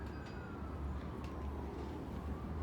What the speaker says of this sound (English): And you hear the sirens again?